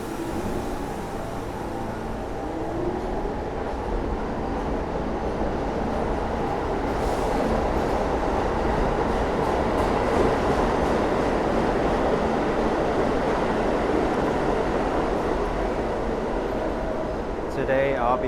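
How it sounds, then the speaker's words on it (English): NYC subway N train bound for Coney Island at the Broome Street station, heard as a steady roar of rail cars and station ventilation rising slightly midway, with a brief squeal near the end. "I just got off the subway at the Broome Street station, the N train."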